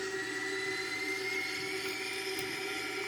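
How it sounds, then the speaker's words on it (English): Airbus A340 engines spool up as the throttle is advanced, a steady loud whine with layered sustained tones and a constant droning hum, with no speech. "We can move the throttle like that and increase the engine thrust"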